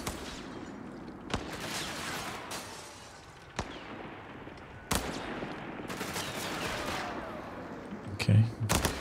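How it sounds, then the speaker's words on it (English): Machine gun fire in Company of Heroes 3: sharp bursts and single cracks at irregular intervals, some near and loud, others more distant, over a continuous battlefield rumble. "Another machine gun early on."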